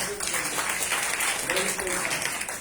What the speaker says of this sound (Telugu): గట్టిగా చప్పట్లు కొడతామండి